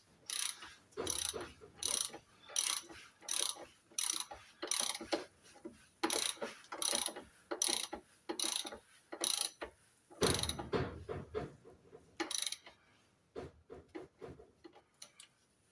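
A hand ratchet clicks in repeated strokes while tightening anti-roll bar bolts on a Jaguar XK8, each stroke a short burst of ticks with brief pauses between, close and clear with no talk.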